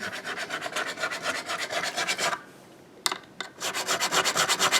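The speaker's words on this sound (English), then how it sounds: "This is a diamond file that Sandbags sells, and I always just use the 300 grit" A 300-grit diamond file rasps back and forth across a guitar fret in quick, steady strokes, close and loud, with a short pause midway before the rhythmic filing resumes.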